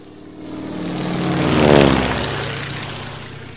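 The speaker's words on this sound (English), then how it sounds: "what kind of airplane is this? This is the PN Islander, PN Islander." A BN Islander ten-seat twin-propeller airplane at an air show passes close by, its droning engines and propeller hum swelling to a loud peak and then fading.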